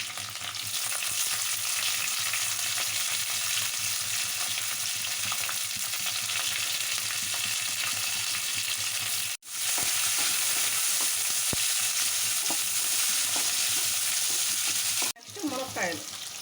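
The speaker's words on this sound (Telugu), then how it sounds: "కట్ చేసుకున్న ఆనియన్స్, పచ్చిమిర్చి వేసుకున్నాం." Chopped onions and green chillies frying in hot oil tempering for a mixed vegetable curry, a loud continuous sizzle with stirring scrapes throughout, close up, broken by two brief drops near the end.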